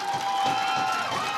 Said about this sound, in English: Crowd getting loud here at Staples High School